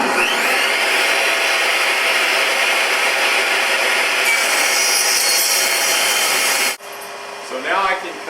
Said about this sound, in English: I'm going to rip an edge here, smooth my fence over and rip the other edge